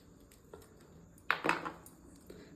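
A knife slices a ripe banana for pazham pori, a Kerala fried banana snack, making a few soft, quiet taps and clicks against a cutting board, including a brief cluster near the middle.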